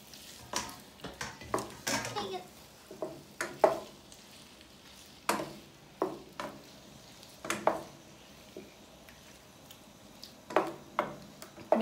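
Shrimp sizzle and fry in a hot pan, interrupted by repeated scrapes and clinks of a utensil stirring against the metal, the sharp contacts coming in irregular bursts over a quiet, steady frying hiss.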